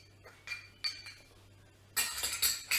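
Nuts, sugar and cinnamon stirred together in a bowl for baklava filling, giving light clinks and scrapes, a few sparse taps then a louder run of rapid clinking near the end.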